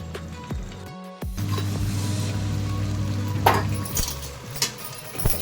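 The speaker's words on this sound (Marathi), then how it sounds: "आता चांगलं हलवून घेऊया आपण" Carrot halwa with milk being stirred in a pan, heard as a steady sizzling bubble with soft scraping and a few sharp spoon taps against the pan, close and continuous.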